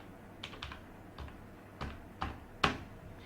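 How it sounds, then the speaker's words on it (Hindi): Keys on a computer keyboard tapped while entering text in an Excel spreadsheet, six or so separate clicks spaced irregularly, with the last one louder and sharper, close and alone. "यहां पर आप स्पेस दबा करके जो आपने लिखा है कोमल, ऑल्ट प्लस एंटर"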